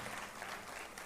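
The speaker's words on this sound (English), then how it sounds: "A warm applause once again to Mr. Subhankar for" A conference audience applauds after a keynote address at an HR event, a brief, dense and even burst of clapping with no pause.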